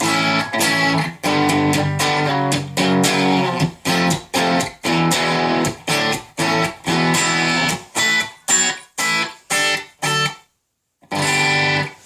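Distorted electric guitar through a Boss RP1000 on a plexi amp setting, playing crunchy chords in short bursts with brief gaps, a dry amp tone with no delay and little reverb, ending after a short silence.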